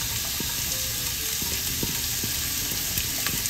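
Onion, ginger and chilies sauté in a hot pan, a steady close sizzle with faint scattered ticks and stirring clinks, no voices.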